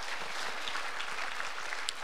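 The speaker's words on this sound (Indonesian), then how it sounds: "Sekali lagi berikan tepuk tangan buat Allah kita." A church congregation claps during a Sunday sermon, a thick, steady wash of applause from a large gathering, with a few sharper individual claps standing out near the end.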